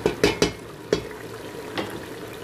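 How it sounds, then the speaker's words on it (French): A meat sauce with spices, prunes and candied apricots in a pot, a spoon clinking sharply a few times against the side over a soft, steady bubbling sizzle. "On laisse mijoter comme ça pendant une bonne vingtaine de minutes."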